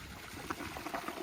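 A Toto toilet flushing during a second-round flush test, with water rushing and trickling steadily through the bowl at moderate volume, close by, for just over a second.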